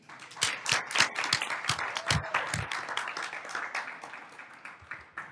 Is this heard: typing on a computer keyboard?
no